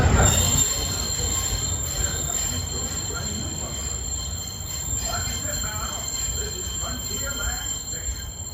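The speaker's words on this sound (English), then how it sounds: "Please remember to stay fully seated until the train has come to a full and complete stop" A steady high-pitched squeal of train wheels on rails rings out over a low rumbling roll as a train pulls into a station at the Magic Kingdom, continuous throughout, with faint voices beneath.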